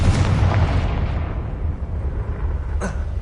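Confringo fire-blast spell in the video game Hogwarts Legacy, a loud low booming explosion that rumbles and decays across the clip, with a brief sharper burst near the end.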